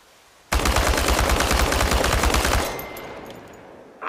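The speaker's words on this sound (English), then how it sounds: "This exercise is about using full auto mode and emptying an entire magazine in one burst." A full-auto rifle burst in the ChernobyLite video game empties an entire magazine, a loud, rapid, unbroken string of shots lasting about two seconds before the fire cuts off and a faint tail rings out.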